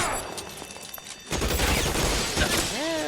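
Shotgun blasts in the LA Noire video game, a sharp broadband burst ringing out amid loud, dense in-game combat noise, with a voice calling out briefly near the end.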